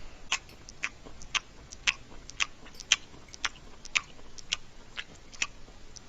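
Close, crisp chewing and biting on a homemade omelet made with butter and grass, with about a dozen sharp crunchy bites in a steady rhythm and no talking.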